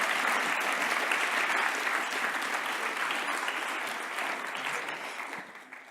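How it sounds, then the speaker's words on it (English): A large audience applauds continuously after a speaker's story, a dense steady wash of clapping that holds strong before tapering off at the very end. "Can we give Ben a massive round of applause"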